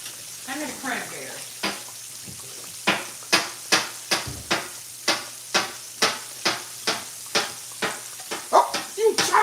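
Shrimp sizzles and bubbles in a hot pan while a spoon stirs it in steady repeated strokes, the scraping sizzle bursts coming close and regular, with people talking faintly at first.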